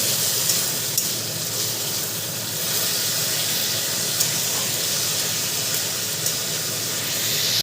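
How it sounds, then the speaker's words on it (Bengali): Beans and carrots fry in a pan for a chira pulao, giving an even, dense sizzle with a hissing edge and a few faint clicks from stirring. "দেখো বিনস আর গাজরটা কিন্তু ভাজা ভাজা হয়ে গেছে আর গলেও গেছে সুন্দরভাবে"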